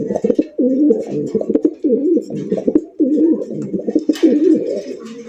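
White Racer pigeons cooing close by in repeated rolling, throaty phrases, with short pauses between bursts and a faint bit of background noise.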